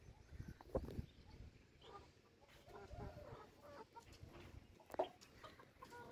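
Chickens cluck softly and intermittently close by, with a few louder squawks scattered among quiet farmyard background noise.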